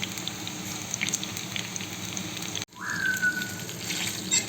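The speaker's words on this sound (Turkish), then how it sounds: "Patlıcanlarımız kızarsın." Eggplants frying in oil in a pan on a stovetop give off a steady, close sizzle that is briefly interrupted, then resumes with a faint high whistle over it.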